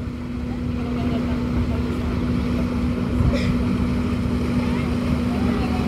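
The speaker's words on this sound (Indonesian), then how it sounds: "Oh ya, ini kapal Basarnas." A small Basarnas search-and-rescue patrol boat passes in Ulee Lheue harbour, Banda Aceh, its engine a steady low drone under constant wind buffeting on the microphone.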